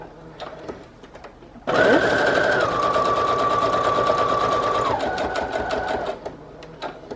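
A sewing machine runs a straight stitch on collage masterboard tags, starting abruptly with a loud, even mechanical whir and rapid stitching rhythm that holds for about four seconds before easing off, with quiet ticks before and after.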